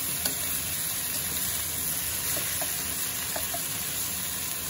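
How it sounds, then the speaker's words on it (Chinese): Chanterelle mushrooms stir-frying in a pan, a steady low sizzle running throughout with faint scrapes and clicks of the spatula, no voices. "一定要给它多炒一炒才香"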